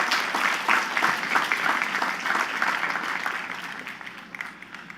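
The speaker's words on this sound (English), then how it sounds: "Let's give another big round of applause to Saul Kupferberg." A commencement audience fills a hall with a dense wash of sustained applause that gradually fades toward the end.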